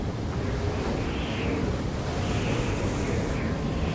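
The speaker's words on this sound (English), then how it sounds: "Waves, 6, maybe 7 meters." Large ocean waves, six to seven meters high, pound around a stranded cargo ship as a cyclone closes in, a continuous loud roar of surf mixed with heavy wind buffeting the microphone, with no clear breaks throughout.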